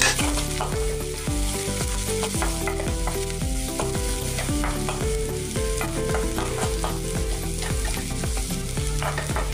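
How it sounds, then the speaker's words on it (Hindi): Onions and green chillies fry in a pan for dal makhani, giving a loud, steady sizzle that runs the whole time beneath a rhythmic musical backing. "अभी इसमें हम प्याज डालेंगे और हरी मिर्च भी डाल देंगे।"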